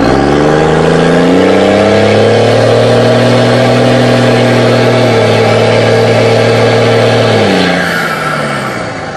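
A Cummins diesel truck with a 4 inch exhaust stack, close to stock, revs loud and close, its deep engine note climbing and holding steady, then dropping and easing off toward the end.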